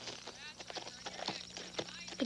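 A horse is ridden, and its hooves beat out a steady clip-clop rhythm, with a voice talking over it throughout.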